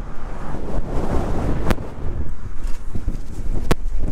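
Strong gusting wind roars across the microphone of a bike courier riding among cars in traffic, loud and continuous with two sharp clicks.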